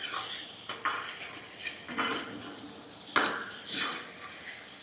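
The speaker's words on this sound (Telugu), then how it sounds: "ఇప్పుడు బాగా ఒక 2 నిమిషాల వరకు కలుపుకోవాలి." A spoon scrapes and clinks against a bowl while paneer 65 marinade with chilli sauce is stirred, giving several bright metallic knocks spaced irregularly over a soft wet mixing sound, close and clear.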